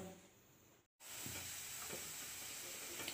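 Potato French fries sizzle and crackle in hot oil with a steady, dense hiss close by. A brief dropout cuts the frying sound for a moment, then it resumes louder.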